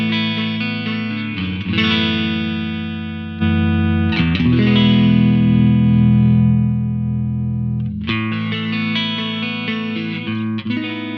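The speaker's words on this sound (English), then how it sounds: "No compression sounds like this." Distorted electric guitar chords with no compression ring out loud and sustained, struck a few times and left to decay, with a natural uneven dynamic and no speech.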